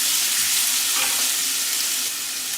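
Chopped onion frying in a pan over a lowered flame, a loud, dense, continuous sizzle close by that holds steady throughout with no speech.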